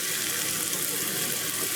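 Water poured into a cooking pot while making coconut kheer, a steady rushing splash lasting under two seconds, close and fairly loud with no talk over it.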